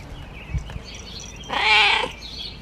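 An old, partly furless cat lets out a single drawn-out meow up close, loud and wavering, after a stretch of quiet room noise with a faint thump.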